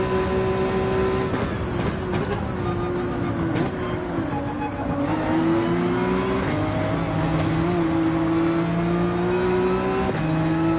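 Porsche 911 GT3 race car in a Gran Turismo 7 online race at Barcelona, its engine revving and rising through the gears with sharp tonal climbs, brief shift dips and a continuous loud drone, no talking.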